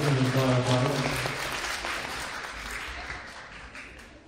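Loud applause from a cosplay festival audience for a performing team, starting dense and strong and slowly tapering, with a voice speaking over the opening moments.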